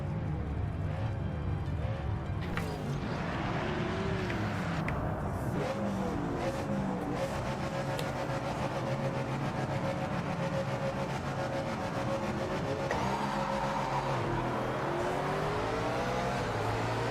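Race car engine in a sim racing game, either Project Motor Racing or Automobilista 2: a steady, loud engine roar with rising and falling pitch as it shifts through gears, running continuously without talk.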